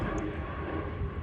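Steady low cabin drone of an airplane engine heard from inside the plane, continuous and fairly quiet, with no speech over it.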